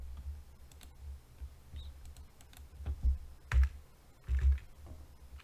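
Soft, scattered keyboard clicks tapping out a short command, a few louder keystrokes standing out near the end, close and quiet.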